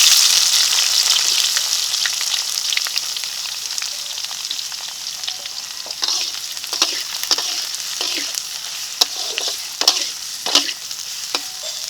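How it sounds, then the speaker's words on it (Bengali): Onions fry in mustard oil with bay leaves and whole cumin in a kadai, sizzling steadily up close, with sharp spatters and stirring taps growing more frequent toward the end. "এই তেলে দিয়েছি দুটো তেজপাতা দিয়েছি গোটা জিরে এখন দিয়ে দিচ্ছি পেঁয়াজ কিছু"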